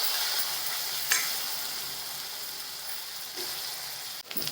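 Chopped onion frying in a pan for a dhaba-style sev bhaji, giving a steady, close hiss of sizzling oil throughout with a brief stir or scrape near the start and again near the end.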